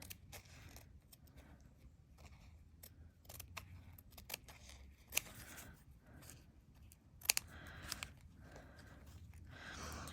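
Glue-gummed scissors make a series of sharp, irregular snipping and clicking sounds while cutting through metal tape, with a few louder metallic snaps, close up.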